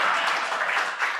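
Scattered audience applause during a Python programming tutorial, a dense steady patter of hands throughout, moderately loud and unbroken, with no one talking over it.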